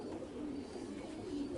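Racing pigeons in a loft give soft, low cooing that rises and falls over a faint background hum, fairly quiet and close, with no talking.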